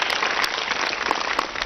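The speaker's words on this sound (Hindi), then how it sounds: "बेटी के लिए एक बार बहुत तालियां बजाओ।" Children and audience at a student camp in Haridwar clapping for a girl who answered well, a short burst of dense, steady clapping filling the room, loud and continuous without voices.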